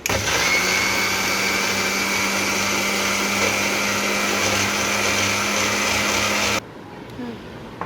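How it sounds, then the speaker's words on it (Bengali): An electric blender whips egg and oil into mayonnaise with a loud, steady whirring drone that runs unbroken, then cuts off abruptly, leaving quiet room tone. "এবার আমি ব্লেন্ড করে দেখাচ্ছি।"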